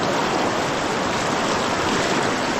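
Strong floodwater rushes along a riverbank, a loud, steady broadband roar of churning water that fills the whole stretch without pause.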